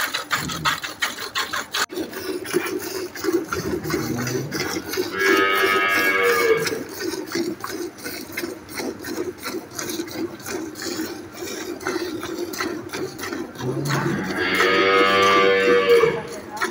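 A dairy cow on a farm moos loudly twice, a long low call near the start and another near the end, close by, over a steady rubbing and scraping background.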